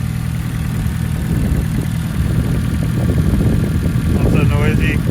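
Turbocharged K24-swapped BMW E36 idling smoothly with a steady low rumble, someone talking over it throughout.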